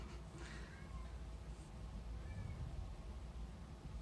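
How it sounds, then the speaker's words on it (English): A faint, distant cat meow rises briefly over a low, steady background hum in a quiet room. "That's my cat running around, if you heard that."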